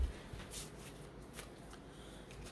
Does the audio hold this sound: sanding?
no